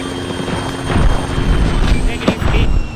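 A helicopter in a military video game, a loud, close rotor and engine roar that swells and holds steady over a few seconds, mixed with game effects.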